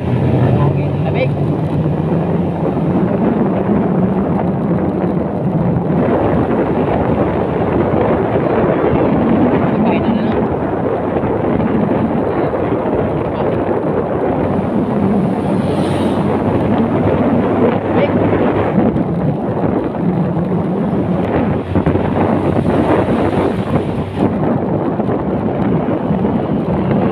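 Wind roars steadily past a motorcycle rider on the road, a loud, continuous rushing that never lets up.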